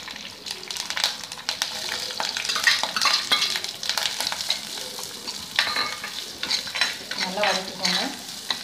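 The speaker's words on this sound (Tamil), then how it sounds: "நல்லா வதக்கிக்கோங்க" Small shallots and curry leaves fry in sesame oil in a pan, with a busy, close sizzle and repeated scraping stirs of a spatula that run throughout in an uneven rhythm.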